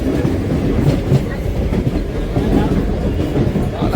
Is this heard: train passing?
yes